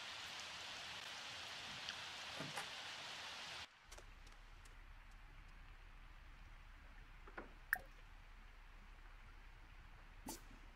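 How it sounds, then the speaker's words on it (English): Steady rain hissing in The Sims 4, a continuous even wash that drops to a quieter, softer patter partway through, with a few faint ticks and clicks scattered on top. "Especially, I'm getting out of this rain."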